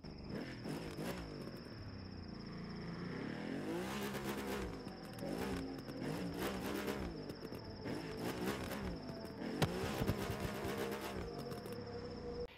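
Audi RS5 Coupé engine in the racing game The Crew 2, revving up and down repeatedly through rising and falling pitch sweeps, with a steady high whine running underneath and no talk.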